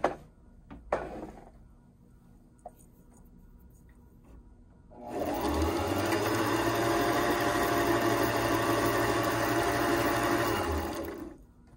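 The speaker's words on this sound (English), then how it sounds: "press on the foot controller, let the thread wrap around the core a few times" A Singer Start 1304 sewing machine winds a bobbin, starting after a few faint clicks with a loud, even motor whir that holds steady for several seconds before cutting off.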